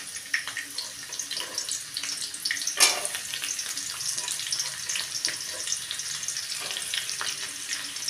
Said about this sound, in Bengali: এবারে কুচনো পেঁয়াজ দিয়ে দিচ্ছি।